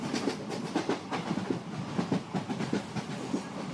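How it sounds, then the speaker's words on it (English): A train rolls along the rails with a rhythmic clickety-clack of wheels over joints, soft and even, with no voices. "You can faintly hear the train approaching a station"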